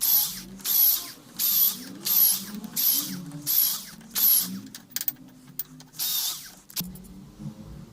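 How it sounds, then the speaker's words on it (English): A hand tap cutting M6 threads into 5 mm holes in a metal tube gives a regular series of rasping, ratchet-like scrapes about twice a second, close up, then a few irregular clicks. "I'm just cutting threads."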